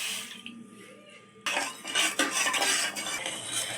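Water poured into a pan of sugar for a syrup, a splashing, clattering rush that starts abruptly and continues steadily with some metallic pan knocks.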